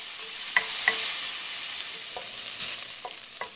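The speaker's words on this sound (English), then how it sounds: "Now let that onion saute in there." Onion sautés in a pot with a constant close sizzle, broken by a few light clicks and scrapes of a spoon stirring, with no voices.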